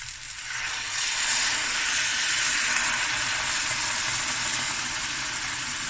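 A pot of lamb shank curry reaching a boil on the stove, giving a steady broadband hiss and bubbling that builds briefly and then holds evenly throughout, with no talking.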